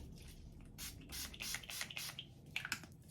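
Several short hissing bursts of Urban Decay All Nighter setting spray, misted close up in quick succession with brief pauses between, the last two puffs the sharpest.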